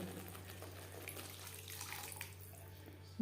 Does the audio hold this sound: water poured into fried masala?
yes